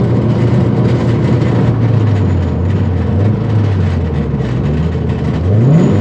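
A boosted Scion FR-S with a failing transmission after losing fourth gear, its engine droning loudly and steadily close up with a whirring, shifting drivetrain tone that rises toward the end.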